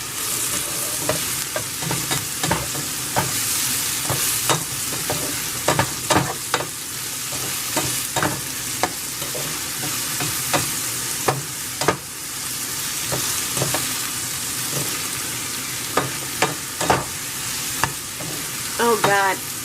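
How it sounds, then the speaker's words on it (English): Mushrooms and onions sizzle steadily in a pan for diner-style patty melts, with repeated scraping stirs of a utensil cutting through the constant frying hiss, close and fairly loud throughout. "keep everything stirring around. We have the mushroom and onions on our patty melts."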